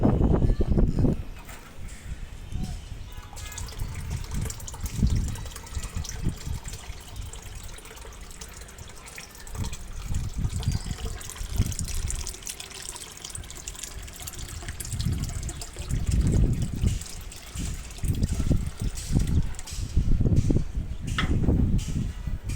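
Water is poured out for birds to drink, splashing and trickling steadily at close range in uneven surges with outdoor noise around it, and no one speaks.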